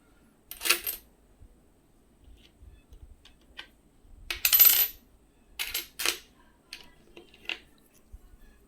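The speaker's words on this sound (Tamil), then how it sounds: "அதில் ஒரு நாணயம் வைக்கிறேன்" Indian 2 rupee commemorative coins being set down, several separate sharp metallic clinks and rattles spaced out over a quiet background, close up with no talking.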